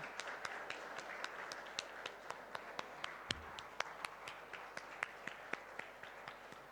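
Crisp, evenly spaced hand claps ring out at a foundation day ceremony welcoming chief guests, steady and fairly close, with a quiet hall hum underneath.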